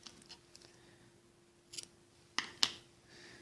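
Scissors snipping through strands of knitting yarn, a few soft scattered cuts and two sharper close snips near the end, in an otherwise quiet room.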